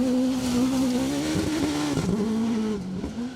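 Off-road race car with a 1400cc Kawasaki engine competing in the British Cross Country Championship at Parkwood Off Road Centre, its high-revving engine droning loud and close, pitch dipping and rising as it shifts and accelerates.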